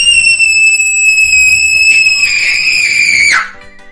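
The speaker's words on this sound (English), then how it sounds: "Stop screaming and throwing temper tantrums like a 5-year-old crybaby." A man screams during a temper tantrum: one loud, sustained, piercing shriek held at a steady pitch for over three seconds before it cuts off abruptly.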